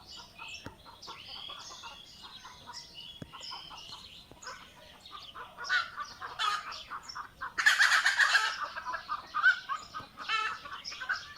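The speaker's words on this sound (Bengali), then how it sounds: "পাশে মুরগি ভয় পাচ্ছে।" Frightened chickens cluck and squawk in bursts beside a flower field in Chalan Beel, rising to a loud flurry of alarmed cackling midway before settling into scattered calls.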